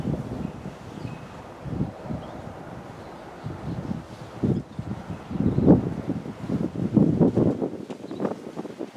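Wind gusting outdoors during soldering work on a Land Rover Defender 2.4 TD4, irregular buffeting rumbles against the microphone that grow stronger and more frequent toward the end.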